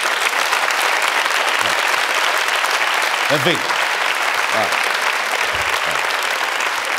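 A studio audience applauds a comedy monologue on a late-night television show, with loud, dense clapping that goes on without a pause. A few short voiced bursts, like cheers or laughter, rise above it, and a brief spoken remark comes near the end.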